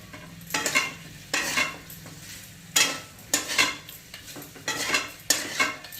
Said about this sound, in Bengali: সমস্ত জিনিসগুলো দিয়ে ভালোভাবে নাড়িয়ে নিচ্ছি